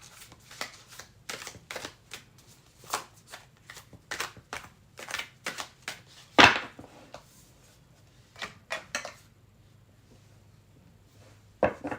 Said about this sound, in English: we're ready for a shuffle